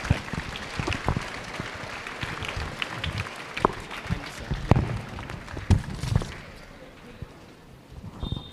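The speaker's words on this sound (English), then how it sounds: "Clap for them." An outdoor audience claps at a school Independence Day sports meet, a continuous scatter of hand claps at moderate distance with sharper individual claps standing out before the applause thins toward the end.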